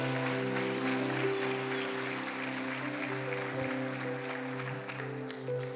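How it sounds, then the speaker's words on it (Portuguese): A church congregation applauds during a service, a steady wash of clapping spread over sustained held musical chords that play throughout. "Você pode aplaudir a Jesus?"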